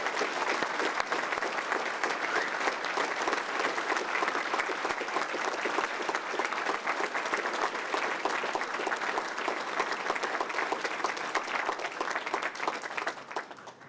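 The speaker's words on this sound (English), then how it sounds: "for Pat, Frank, and Mr. Archer, can we give them a Henrico round of applause?" Sustained round of applause from an audience at the ribbon cutting ceremony for the Henrico Sports & Events Center, thick even clapping holding steady for over ten seconds before tapering at the end.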